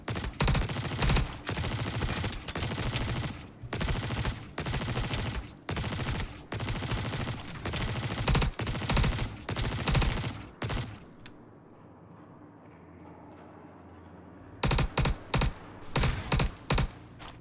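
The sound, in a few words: gunfire in the video game Star Citizen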